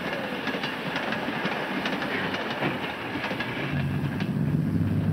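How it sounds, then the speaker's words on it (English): A 1930s train passes by with a steady, loud rolling rumble and rhythmic clickety-clack of wheels on rails, growing heavier toward the end, with no voices. "you'll tell him after this train gets by"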